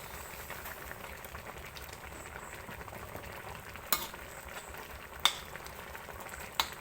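Okra cooks in a pot of bamboo shoot and white mushroom curry while being stirred. A soft, continuous simmering sizzle stays fairly quiet, broken by three sharp knocks of a utensil against the pot.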